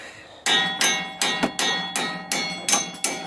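Eight sharp metallic hammer strikes on suspension parts of a 2017 Ford Mustang GT during a lowering-spring install, in a steady rhythm, each ringing briefly before the next blow, close up with no talking.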